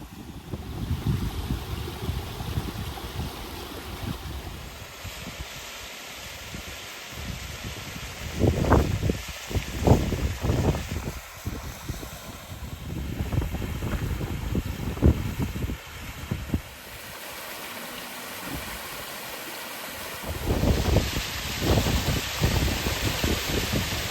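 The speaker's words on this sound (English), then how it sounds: "This is clearly the waterfall marked on the old maps." A small waterfall on a moorland stream gives a steady, broad rushing of water that lasts throughout, with gusts of wind buffeting the microphone.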